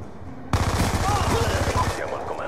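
Rapid automatic gunfire from a Call of Duty match on the Cargo map, a dense burst of shots beginning abruptly and rattling steadily for about a second and a half before cutting out, with game sounds continuing faintly after.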